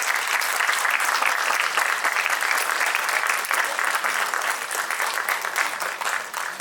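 Sustained audience applause fills a hall at a staged performance of the play Andha Yug, a dense, steady wash of clapping that stays loud throughout with no voices rising above it.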